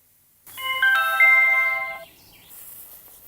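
A Xiaomi smart doorbell's phone notification plays as a short bright melodic chime of a few clear tones lasting about a second and a half, then quiet room tone returns.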